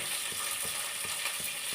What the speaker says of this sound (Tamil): எண்ணெயிலேயே வதக்கணும்.